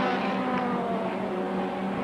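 IROC race cars from a 1975–1978 race, a loud continuous engine roar with steady tonal drone as the pack comes out of turn 9, no talk heard.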